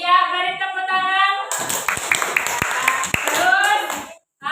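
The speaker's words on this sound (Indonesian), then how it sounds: "beri tepuk tangan" A class of students in a school lesson claps hands together for a classmate, a short burst of brisk scattered clapping mixed with children's voices and talking before and after.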